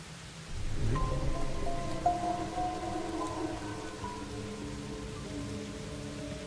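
Steady rain in the video game Master Detective Archives: Rain Code patters throughout, a constant wash of falling drops with a low droning tone underneath; no voices.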